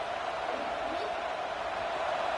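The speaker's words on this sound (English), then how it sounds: "This crowd is trying to inspire this defense to make a big red zone stop." A football stadium crowd roars steadily during a red zone defensive stand, a broad, sustained wash of cheering noise with no breaks.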